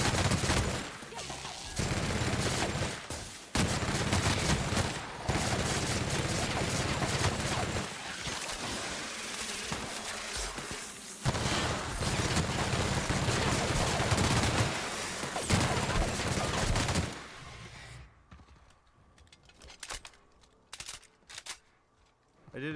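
Video game gunfire from The Outer Worlds, with sustained bursts of rapid shots and heavy combat noise over most of the clip, then a few isolated shots as the fight dies down.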